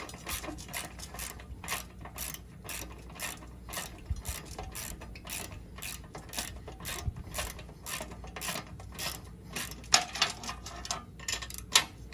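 A wrench tightens a bolt on a Fishbone Offroad steering box skid plate while vise grips hold the other side, giving a steady run of sharp ratcheting clicks throughout, close and fairly even.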